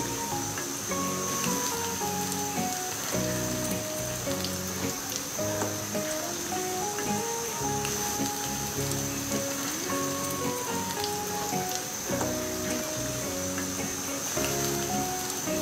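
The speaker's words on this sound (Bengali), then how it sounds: "তারপরে পেঁয়াজগুলো আমি আস্তে আস্তে ভেজে নেব" Onions fry in oil over medium heat with a steady, dense sizzle and crackle that runs unbroken throughout, close and even, beneath melodic background music.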